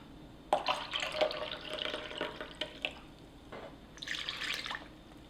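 Room-temperature water splashes and trickles into a measuring cup in uneven bursts, with a brighter pour near the end, close and fairly quiet.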